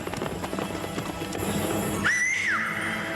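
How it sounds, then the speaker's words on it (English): Hooves clatter in a quick, busy rhythm, then a horse lets out a sharp, high whinny. "The horses bolting away."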